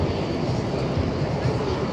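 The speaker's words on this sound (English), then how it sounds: "As the aircraft taxi back" US Navy Blue Angels jets taxi back after an air show display at NAS Patuxent River, a steady, broad engine roar and whine filling the air at moderate distance, with an announcer talking over it.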